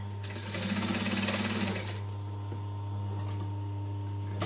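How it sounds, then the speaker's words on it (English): A sewing machine runs a short burst of rapid, even stitching along a seam, close and clear, then stops, leaving a steady low hum and faint handling noises. "I'm going to stitch 1/8 of an inch from the center line"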